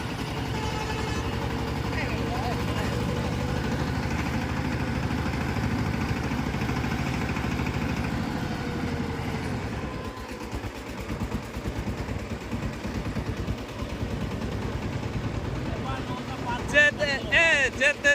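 A boat engine at a river crossing runs with a steady low drone and wind buffeting. Voices talk over it and the engine noise becomes rougher and more broken toward the end.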